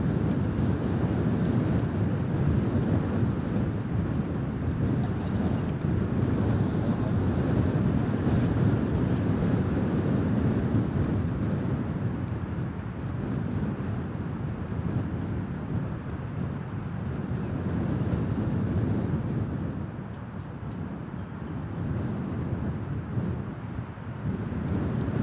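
Constant strong wind buffeting a microphone outdoors near an air base, a heavy low rumbling roar that stays loud and unbroken throughout with only slight swells.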